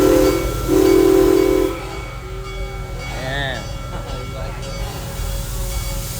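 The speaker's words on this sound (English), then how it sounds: "Love the sound of a train whistle." A steam train whistle at Busch Gardens gives one loud, sustained blast close by over the engine's deep rumble, then fades as a voice talks over the ongoing train noise.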